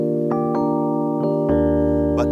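A Studiologic Numa X Piano plays a soft electric piano tone with hammered tines, sustained chords struck several times with gentle attacks, close and clean, no voices.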